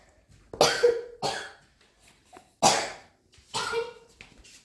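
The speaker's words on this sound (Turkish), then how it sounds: "Tarçın mı öksürtüyor benim?" Several sharp, harsh coughs in separate bursts with short pauses between them, close and fairly loud, with no talking.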